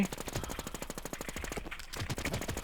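Rapid automatic gunfire from a shooter video game, a loud continuous stream of evenly spaced shots with a brief lull before the firing resumes, with no voices over it.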